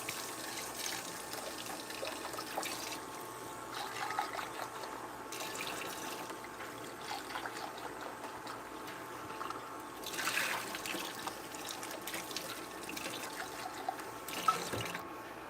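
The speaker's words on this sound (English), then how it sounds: "Let me rinse out your cup here." Water splashes and trickles into a cup as it is rinsed under a faucet, a soft, steady flow with gurgling swirls and a few brief louder bursts, near and fairly quiet.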